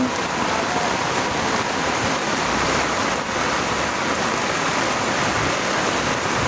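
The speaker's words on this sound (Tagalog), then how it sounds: "parang hindi titigil ang ulan" Heavy rain pours down steadily during a rising flood in a residential subdivision, a dense, unbroken hiss, loud and close, with no pauses or voices.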